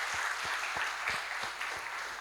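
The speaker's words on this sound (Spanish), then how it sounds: "le damos un fuerte aplauso de bienvenida" A church congregation gives a welcoming round of applause for first-time visitors, a soft, somewhat distant wash of clapping with a few louder individual claps standing out at intervals.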